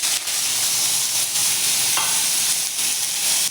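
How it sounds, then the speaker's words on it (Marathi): Potato pieces frying in a little oil in a kadhai, a steady close crackling sizzle with faint stirring, no voices. "ते बटाटे तेलावर असे छान फ्राय करून घेऊया"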